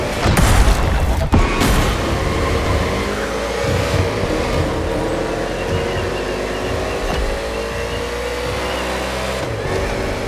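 NASCAR stock cars racing through the streets of Honolulu in The Crew Motorfest, with loud, continuous engine roar, shifting pitch as cars accelerate and a few heavy thumps early on.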